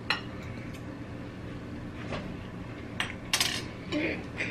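A metal spoon clinks and scrapes against a dish while MRE food is scooped out, with several bright taps and scrapes up close and a few quiet voices in the background.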